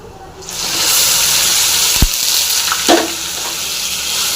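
Vadagam and gongura leaves frying in a pan, with onion, garlic and curry leaves, give a steady, close hiss with a couple of brief sharper sputters or clanks partway through.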